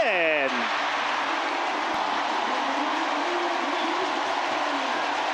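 Stadium crowd noise fills the air as Samsung pitcher Won Tae-in leaves the mound during a postseason playoff game against SSG, a steady wash of applause and cheering that stays loud and even throughout, with a brief whistle-like tone at the start.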